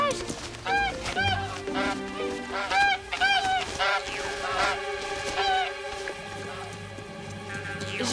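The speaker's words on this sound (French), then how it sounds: "des oies sauvages" Wild geese honking in an animated cartoon, a run of loud, repeated nasal honks from a flock overhead, layered over a full orchestral music score.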